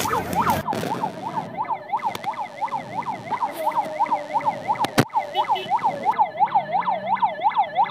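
An ambulance siren wails in a fast, repeating up-and-down cycle through a traffic jam, loud and close, escorted by a motorbike, with a brief knock partway through.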